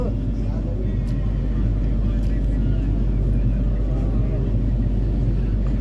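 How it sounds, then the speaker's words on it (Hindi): Steady low rumble of a Garib Rath express train running slowly between Delhi Hazrat Nizamuddin and Bandra Terminus, heard from inside as a continuous deep drone with faint rattles, under someone talking. "गाड़ी थोड़ी स्लो से चल रही है।"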